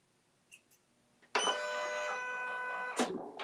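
An embroidery machine stitching a cat patch onto fabric starts up after a few faint clicks, then runs as a loud, steady whirring, buzzing drone with a clunk near the end, close by and without speech.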